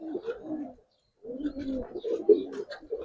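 Giribaz colouring pigeons coo close by in bursts of low, throaty calls, with a short pause before the cooing resumes and continues steadily.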